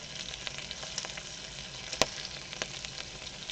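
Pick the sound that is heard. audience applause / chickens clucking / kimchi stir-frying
kimchi stir-frying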